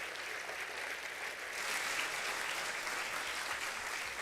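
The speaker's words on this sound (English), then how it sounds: "Let's give them a round of applause" A steady, dense wash of audience applause at a college fall convocation, loud and continuous throughout with no talk over it.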